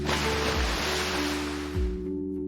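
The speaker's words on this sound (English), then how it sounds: "With a big leap, Cody jumped from the rock and made a huge splash." Crocodile leaping from a rock into water, a broad rushing splash that swells, dips, and surges again before fading, loud and close.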